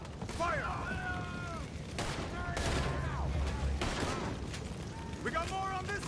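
Gunfire volleys in a Red Dead Redemption 2 shootout crackle through dense, continuous combat noise, with shouting voices layered over the shots throughout.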